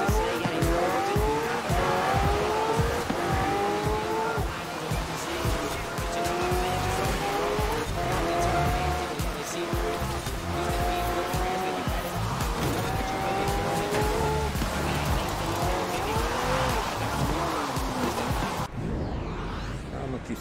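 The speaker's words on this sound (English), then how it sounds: "I'm gonna keep spinning this car out." Car in Forza Horizon 4 drifting and spinning out on a wet, rainy road, tires squealing in long repeated wavering screeches over a steady loud engine roar, continuous for most of the stretch before cutting off near the end.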